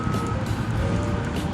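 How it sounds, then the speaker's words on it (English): City garbage trucks at a landfill, a steady series of reversing beeps from a distance over the constant rumble of big diesel engines and heavy machinery. "These are all the city trash trucks."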